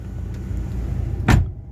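Someone settles into a car on a cold day, with a low idling hum underneath and a single solid door slam near the end, followed by a quiet cabin.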